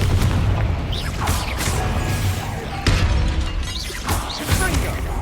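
Confringo blasting spell in a video game, several booming explosive bursts with crashing debris and whooshes over a dense in-game din, loud and close.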